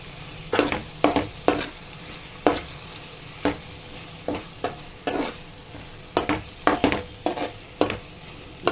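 A curry in a hot sizzling pan is stirred and mixed with a spoon, giving a rapid run of sharp scraping strokes over a continuous frying hiss, close and fairly loud, with no voices.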